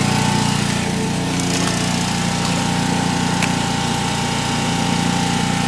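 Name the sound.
pump running on a plastic-to-fuel reactor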